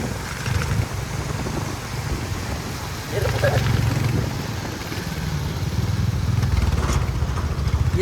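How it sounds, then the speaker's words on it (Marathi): Scooter riding up behind on a monsoon road trip, a buzzing two-wheeler engine that rises and grows louder around the middle and stays present beneath people talking. "बघा ही स्कूटी पण आली."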